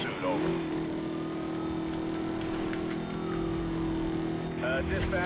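Car engine in Need for Speed: Most Wanted (2012), a steady high-revving drone held at speed with a rising whine at the start, under someone talking throughout.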